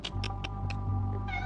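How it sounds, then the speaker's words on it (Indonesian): A cat meows several times in quick succession, short and fairly faint, over a low steady hum. "Ada suara kucing."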